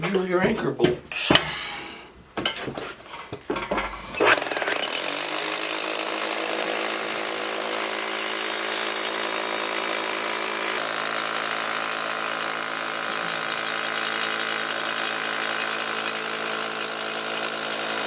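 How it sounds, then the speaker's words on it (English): A hammer drill bores anchor-bolt holes in a block foundation. It comes in after some brief talk and handling noise, then runs as a loud, steady, continuous grind that holds for many seconds. "drill your anchor bolts."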